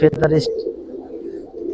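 Giribaz pigeons in a loft coo once in a short, close burst, followed by a low murmuring hum of birds, with a voice at the start.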